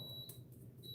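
High electronic beeping from a modeling kit's legs, a steady piercing tone that stops briefly mid-clip and then resumes, with a low background hum and no talk.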